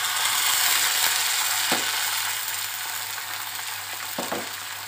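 Chopped tomatoes and green chillies fry in a pan as a steady, loud sizzle with soft stirring clicks and scrapes, without talk.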